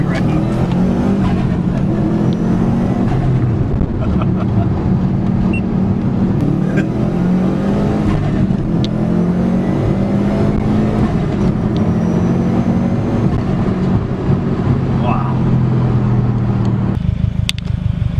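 A 2006 Subaru STI accelerates and revs hard from inside the cabin, a loud, steady engine drone rising and falling in pitch across the run before easing off near the end.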